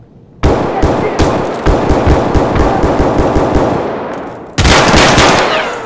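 Loud rapid gunfire in the video game Escape From Tarkov: several bursts of automatic shots, a short pause, then another dense burst close by, with no talk.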